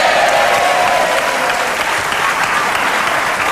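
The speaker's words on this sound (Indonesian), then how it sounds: "Give applause for Kang Thor" A studio audience claps loudly and steadily for Kang Thor on a television talk show, a dense, sustained wash of applause with crowd murmur throughout.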